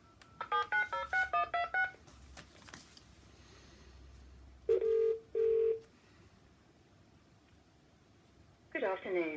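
Touch-tone keypad beeps dial a phone call to TV Licensing: a quick run of about eight tones, two longer tones later, then a ringing or connecting tone at the end, over faint room noise.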